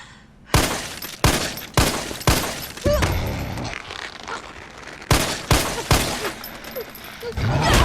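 Samurai Edge handgun shots ring out in Resident Evil 3 Remake, several sharp loud reports in two clusters with brief gaps, followed by game effects and impact sounds, no talking.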